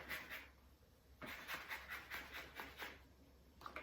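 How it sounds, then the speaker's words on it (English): A lemon is zested on a grater in a kitchen with quiet, rhythmic rasping strokes, one short burst, a brief pause, then about eight even back-and-forth scrapes close by. "Once that's done, just give it a good zest."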